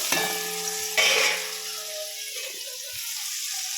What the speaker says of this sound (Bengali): তেল গরম হয়ে গেছে, পনিরগুলো দিয়ে দিলাম।